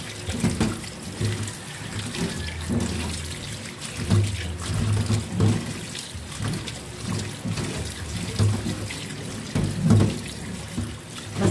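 Liquid dripping and trickling off drained anchovies being prepared for Filipino bagoong, a steady watery patter with small splashes, fairly close and continuous with no talk.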